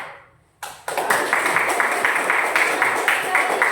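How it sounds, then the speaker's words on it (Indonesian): Classroom applause from a group of primary-school pupils, starting abruptly after a brief quiet and continuing as a dense, steady clatter of many hands with a rhythmic pulse. "Boleh kita kasih tepuk tangan?"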